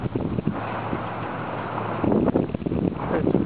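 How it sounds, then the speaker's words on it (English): Strong wind on a snowy mountain buffets the microphone with continuous rumbling roar and gusty surges, loud and close, with no voices standing out. "It's really windy."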